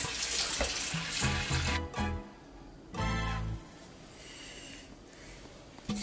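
Water runs steadily from a kitchen tap over salted eggplant slices being rinsed, a continuous close splashing that shifts in strength as the slices move under the stream, with no talk.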